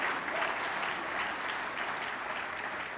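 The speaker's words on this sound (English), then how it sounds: "how about a round of applause again for the Hilton Harrisburg" Gala audience applauding, a steady wash of many hands clapping at moderate volume for the full few seconds, with no talking on top.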